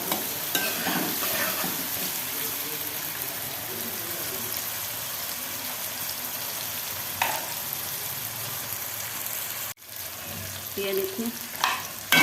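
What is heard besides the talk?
tomatoes cooking and being stirred in a pan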